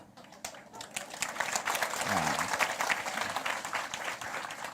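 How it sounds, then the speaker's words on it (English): A conference audience claps again on request, this time more energetically: a broad crowd applause that swells and thickens toward the middle, with scattered voices and cheers mixed into the sustained clapping. "I want an omelette bread clap."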